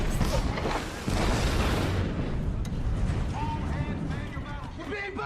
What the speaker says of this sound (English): We're being bombed!